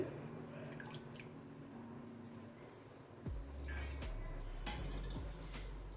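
A whisk stirs 500 grams of yogurt in an open bowl, with light clinks and scraping against the bowl, quiet and close, and a few louder knocks and taps toward the end.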